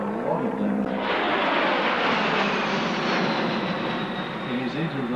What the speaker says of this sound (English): Generally had a 220 horsepower radial engine, an R670